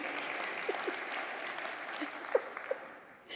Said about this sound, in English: When did we start clapping for jokes?